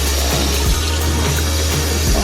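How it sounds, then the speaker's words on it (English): Cool tap water runs steadily while a weave is rinsed of conditioner; a continuous, close splashing flow with a low hum underneath and no talking. "I always rinse with cool water"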